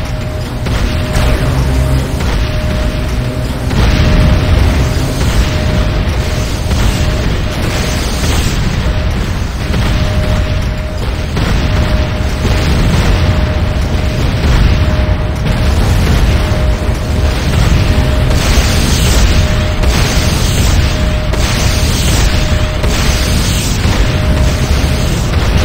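A Nod airstrip under attack in the Renegade video game gives off continuous loud explosions, bursts and rumbling blasts that pile on each other without a break, with a faint tone near the start and no one speaking.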